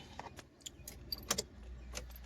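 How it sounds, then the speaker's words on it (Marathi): A few light, scattered jangles of keys nearby as a car engine is switched off, followed by a faint low engine hum near the end. "एक मिनटं गाडी बंद करू द्या"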